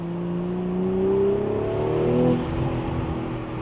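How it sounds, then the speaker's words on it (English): A strong, loud engine drone from a B9 Audi with a carbon fiber intake climbs in pitch with a throaty intake roar, steady and close, rising then easing off without any voices. "The induction noise is so strong."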